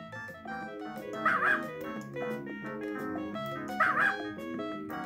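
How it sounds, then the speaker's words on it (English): A cartoon dog barks twice, yipping over the steady music of the Putt-Putt Goes to the Moon video game. "You hear me, you young dog?"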